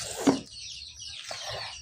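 A hen kept among pigeons gives a short, fairly close cluck, followed a second later by fainter, softer clucking sounds.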